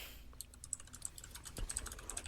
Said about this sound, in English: because I have a mechanical keyboard like some kind of fucking hoser